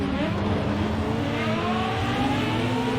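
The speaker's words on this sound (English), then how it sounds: "If you listen to the engine." A Formula-style racing car engine in a video game holds a steady, high, whining drone with no pauses, heard alone at moderate loudness.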